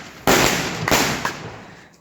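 Firecrackers burst loudly at a home birthday celebration, a sharp crack followed by a second bang just under a second later and a smaller pop, each leaving a crackling, decaying tail with no talk over them.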